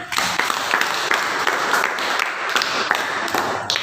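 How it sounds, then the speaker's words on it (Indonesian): Students in a junior high school classroom clap together, a steady dense burst of applause running the whole time with sharp individual claps poking through; no one talks over it. "Iya, berikan tepuk tangan."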